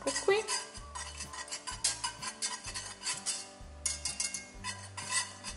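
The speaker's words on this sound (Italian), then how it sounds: "Utilizziamo la frusta e la facciamo cuocere." A wire whisk works through a white sauce thickening in a pot, giving quick rhythmic metallic scrapes and clinks in steady bursts, close and fairly quiet.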